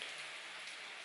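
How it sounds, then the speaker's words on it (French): Steady rain falls on a surface, a dense, even hiss of drops with no pauses, heard alone at a fairly low level. "Ce que tu entends là, c'est la pluie"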